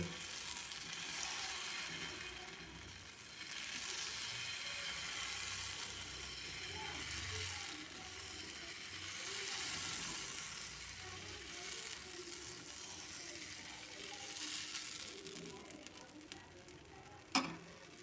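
Vegetarian breakfast batter spread thin in a pan sizzles steadily and close, a continuous soft hiss that holds throughout, with one sharp clink near the end.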